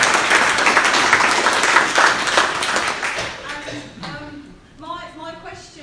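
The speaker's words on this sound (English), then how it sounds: "Round of applause for Shania's advice." Audience applause at a live real-estate Q&A event, a dense round of clapping that fills the opening seconds and then thins out, with talking emerging over the last stretch.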